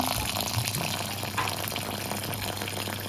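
Tap water runs in a steady, close stream while lentils are rinsed in a kitchen, an unbroken gushing wash with no talk.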